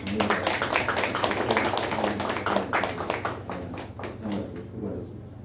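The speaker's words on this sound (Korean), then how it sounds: "박수" Congregation applause during a Sunday church worship service: dense, sustained clapping from many hands running steadily throughout, over a low constant hum, easing slightly toward the end.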